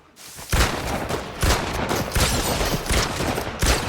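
Sustained gunfire in Fortnite, a dense loud volley of overlapping shots with stronger cracks roughly every second, close and continuous.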